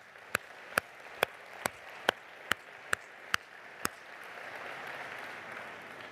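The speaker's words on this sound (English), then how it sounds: "Let's give them all a round of applause." Applause at the closing ceremony of a global summit in Cancun, heard as a series of about nine sharp, evenly spaced claps, then a soft, broad wash of clapping from the audience afterward.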